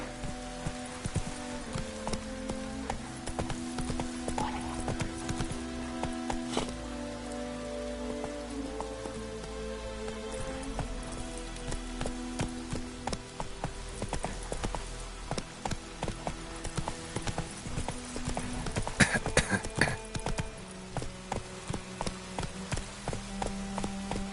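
Horse hooves clip-clopping at a steady walking-to-running pace in The Witcher 3 video game, rhythmic hoofbeats over a continuous bed of rain and game ambience, with a denser burst of steps near the end.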